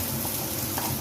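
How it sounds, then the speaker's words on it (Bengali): Ground spices frying in oil in a pan for a malai egg curry, giving a brief, steady, close sizzle with a crackling hiss and no voices. "মশলা ভাজা চলুক"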